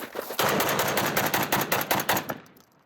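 A rapid burst of loud gunshots from a Makarov-type pistol fitted with a drum magazine, fired in quick succession for about two seconds, then a fading echo.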